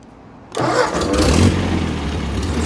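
A 1964 Ford 4000 tractor engine starting after a brief quiet moment, catching abruptly and settling into a loud, close, rumbling idle.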